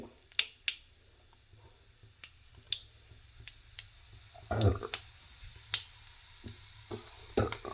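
Mustard seeds crackle in hot oil as a Tamil cook tempers a flat-bean stir-fry, giving sparse, sharp pops scattered over several seconds at a fairly faint level, with one slightly denser burst partway through.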